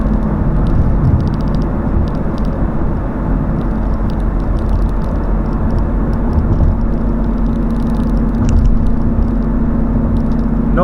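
A 2019 Mustang GT fitted with a Borla S-Type exhaust cruises at highway speed, heard from inside as a steady low engine and exhaust rumble under road and tyre roar, with no drone.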